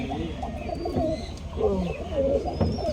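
Pigeons at a pigeon farm coo in low, throaty, overlapping calls, fairly close and continuous, with faint background murmur.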